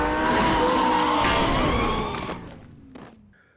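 A car in a chase scene of a driving video game brakes hard, its tires squealing in a long skid over roaring engine noise that fades out, followed by a short thump near the end.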